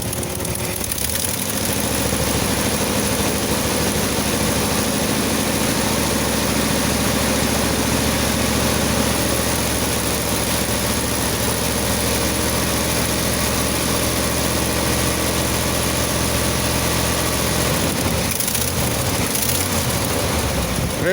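A 1984 GMC S10 idles steadily after a cold start, with a loud, constant low rumble and faint tonal whine holding for about twenty seconds, and a brief bump near the start and another near the end.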